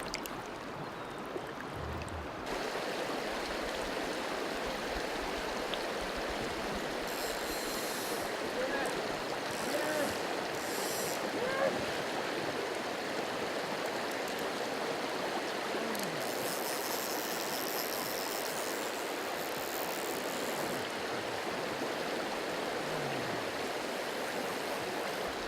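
A river from someone's childhood rushes steadily and evenly throughout, a broad constant wash of flowing water with faint bright splashes and no clear talking.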